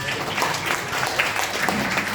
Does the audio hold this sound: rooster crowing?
no